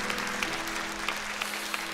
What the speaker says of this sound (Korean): 박수로 우리 목사님 격려하고 하나님께 영광 드리겠습니다.